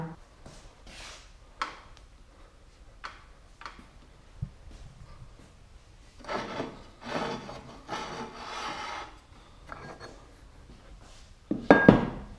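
A table saw ripping a wooden board lengthwise for a CNC fixture plate, with a stretch of rough rasping cut noise, scattered knocks and handling sounds, and a louder burst of clatter at the end.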